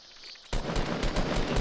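Fortnite Battle Royale gunfire: after a faint half-second, a loud, sustained rapid burst of automatic shots erupts and continues steadily close by.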